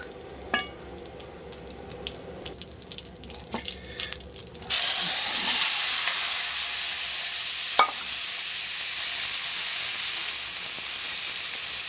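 Chopped bottle gourd sautéing in a pan: a few spoon clinks and light frying at first, then a sudden loud, steady hissing sizzle that holds to the end.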